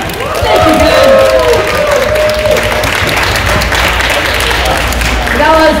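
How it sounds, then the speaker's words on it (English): An audience applauds and cheers Kevin during a game-show style contest, clapping loud and continuous throughout, with voices talking and shouting over it. "And another round of applause for Kevin!"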